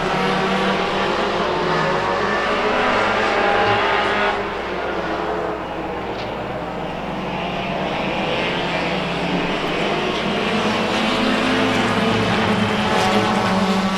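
Saloon Hornets race cars run a 15-lap feature race on a short track, their engines a continuous droning roar that dips briefly midway and swells again, loud and sustained with no clear talk.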